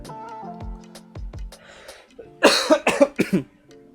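A short series of loud, harsh coughs comes in quick succession, following softer background noise.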